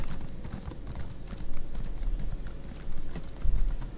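Rapid, rhythmic hoofbeats of a horse clip-clopping at a brisk pace in Elder Scrolls Online, with a few louder, heavier stretches and no voices.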